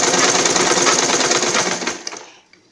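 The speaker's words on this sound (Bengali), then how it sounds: "এখন দুপাশের দুটা হিপ লাইনের সেলাইটা করে নিব দুপাশেই" A sewing machine runs fast, stitching the hip lines of a salwar with a rapid, even mechanical whir that stops abruptly near the end, leaving a faint click.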